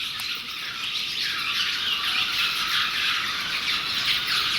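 Birds squawk and screech continuously from a hole in the ancient Maya temple ruins at Uxmal, Mexico, a shrill, harsh dense wall of calls with no talking.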